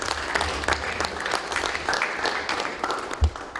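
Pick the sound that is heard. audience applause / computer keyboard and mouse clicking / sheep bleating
audience applause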